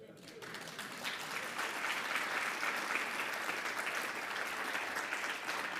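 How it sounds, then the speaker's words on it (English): A lecture audience in Newark's Art and Education District applauds in a steady dense wash of many hands, fairly soft and sustained without pause, with some voices underneath. "That doesn't get applause in every circle"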